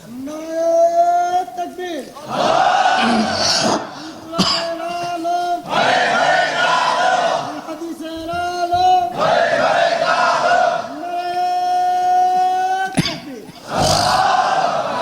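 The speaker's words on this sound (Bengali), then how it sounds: "সবাই একটু আমার সাথে একটু তাকবীর দেবেন।" A crowd at a Bangladeshi Islamic religious gathering loudly chants the takbir, Allahu Akbar, in repeated call-and-response bursts, one voice leading and many voices answering in unison.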